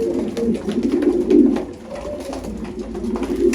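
Pigeons in a loft coo in low, rolling throaty bursts, fairly close and steady, with the calls swelling and fading over a few seconds.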